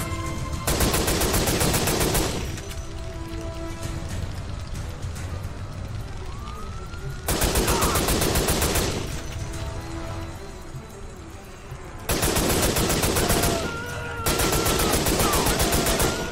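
Sustained turret gunfire in a video game comes in three long, loud, continuous bursts with short pauses between them, backed by a rising whine and steady ambient rumble.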